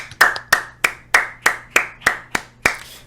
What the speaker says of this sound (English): Let's give ourselves a round of applause for that one.